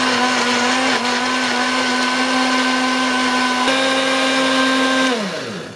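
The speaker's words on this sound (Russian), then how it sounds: "Вот мы тщательно взбили в блендере эту смесь." A blender motor whirs steadily at close range for several seconds, mixing a habanero sweet-and-sour hot sauce, its pitch briefly shifting before it winds down and stops at the end.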